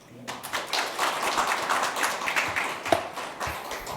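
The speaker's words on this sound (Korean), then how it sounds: "힘찬 박수로 모시겠습니다." An audience at a Korean seminar on security token offering legislation and digital asset policy claps to welcome a speaker to the opening ceremony, a dense, even patter of many hands that holds steady at moderate loudness.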